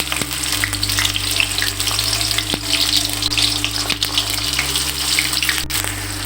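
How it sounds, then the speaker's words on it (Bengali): Onions fry in mustard oil in a wok, a loud, steady, close sizzle that continues without pause over a low background hum. "পেঁয়াজগুলো আমি একটু হালকা ভেজে নিব।"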